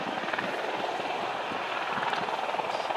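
A Polish MiG-29 Fulcrum fighter jet flies a display at the RIAT 2013 air show, giving a loud, steady broadband roar that fills the whole stretch.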